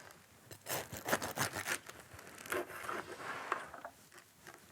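A knife saws through crusty bread served with Greek baked eggs and gigante beans, giving close, dry crackling and tearing crunches in uneven bursts, loudest early on and then quieter scraping strokes, with no talk.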